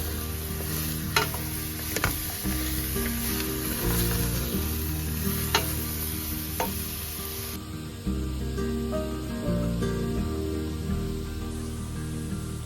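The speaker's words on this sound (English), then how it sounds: "once it's all in the pot, it's just a matter of stirring it and keeping it all together" A paprika-seasoned stew cooks in a pot, a continuous loud sizzle and bubble with occasional sharp clinks of a spoon against the side as it is stirred, steady throughout with no talking.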